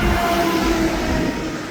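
Freight train rolling slowly on rails beside a siding, a loud steady rumble with a faint metallic whine, close by and without voices.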